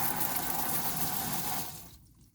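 Shower water runs steadily inside a van's interior shower cabin, a broad continuous spray that stops abruptly near the end, with no talk.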